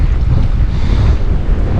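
Strong wind buffets the microphone during fall bass fishing from a boat, a loud, continuous low roar with rough gusty swells and no speech.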